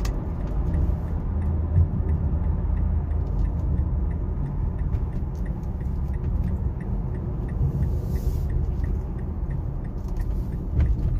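A 2008 Mazda CX-7 Grand Touring with a 2.3-liter turbo four and six-speed transmission cruising at about 40, heard from inside as a steady low engine and road rumble with faint regular ticking.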